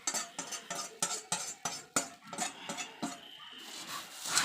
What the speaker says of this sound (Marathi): हा चिवडा पटकन अशा प्रकारे हलवून घ्यायचा आहे